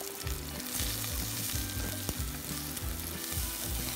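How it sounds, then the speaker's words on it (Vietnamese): Lemongrass, garlic, shallots and chili frying in hot oil, a dense continuous sizzle with rhythmic low knocks of stirring running underneath, close and alone. "Rồi phi cho nó hơi cháy cháy thơm thơm chút"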